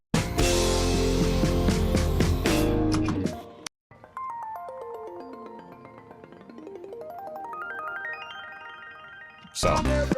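Carefully sequenced synth notes in a fast arpeggiator-like pattern, bright plucky tones climbing and falling in quick steps, following a dense loud burst of full music at the start.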